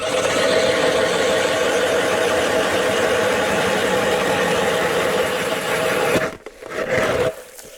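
A motorized ice auger drills through river ice on a taiga fishing trip, its steady, loud engine droning close by for several seconds before it cuts out, revs briefly and stops again.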